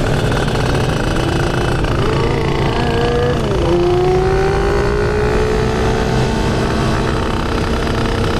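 A Yamaha Tiger motorcycle fitted with a KBRS racing exhaust, its engine droning loud and close with a rising rev partway through, set against continuous traffic and road noise.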